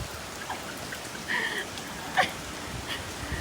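Rain during Hurricane Ian, a soft, steady patter of drops with a few sharper splashes standing out, fairly faint and constant, with no voices.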